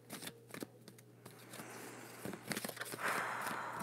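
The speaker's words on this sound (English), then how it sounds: "I just shuffled a bunch of times" A deck of tarot cards shuffled by hand gives a run of soft, close riffling and sliding rustles with small taps over several seconds. The shuffling is quiet and steady and there is no talking.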